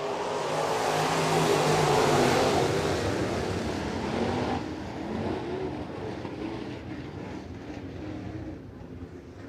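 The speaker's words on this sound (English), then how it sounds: "10 cars to go the distance, 10 laps" Crate race cars roar around a dirt track at the East Bay WinterNationals, a dense, loud engine drone that swells to a peak early on, then eases back into a steadier, more distant rumble.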